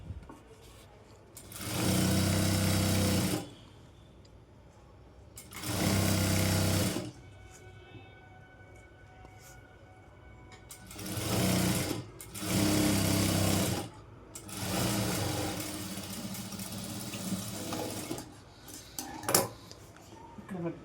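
Sewing machine top stitching the folded lower hem of a Panjabi dress: several loud, steady mechanical whirring runs of one to two seconds each, separated by quieter pauses with small handling clicks.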